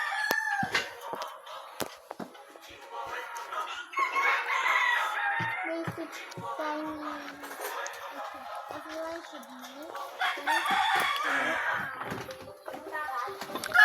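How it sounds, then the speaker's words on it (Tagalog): Chickens cluck and a rooster crows in a rural yard, the bird calls near and recurring under and between conversational voices that continue through most of the clip. "Ang dami manok."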